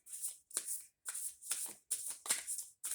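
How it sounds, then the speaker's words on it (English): Moonology oracle cards are riffled in quick, crisp bursts during a tarot reading, about six short papery flurries separated by brief silences, close and fairly quiet with no talking. "I am going to pull some Moonology Oracle cards"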